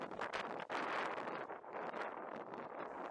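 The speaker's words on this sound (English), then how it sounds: "see how windy it is, it's shaking my camera stand about." Gusty wind on a canal bank buffets the microphone with a rough, steady roar that rises and falls over a few seconds, shaking a camera stand.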